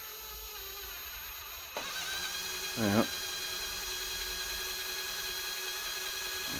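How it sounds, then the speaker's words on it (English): A power drill whines at high speed while boring into a landing net's plastic spreader block, a steady close tone that starts abruptly with a brief dip in pitch, and a voice speaks briefly. "just get the drill, so hopefully it will go through the hole"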